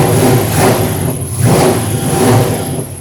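A 1972 Chevrolet Suburban engine revs up close and loud, rising and falling in about three throaty pulses over a steady rumble.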